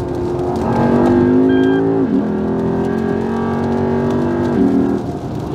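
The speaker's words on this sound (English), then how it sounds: "The first thing that I love about this car is the V8 engine." A 2008 Lexus IS F V8 engine holds a loud, close, sustained growl with strong induction noise, dipping briefly twice as the revs shift before settling again.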